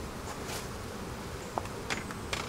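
Honey bees buzz around a backyard beehive, a steady, fairly faint droning hum with a few brief sharper ticks and rustles, with no talking.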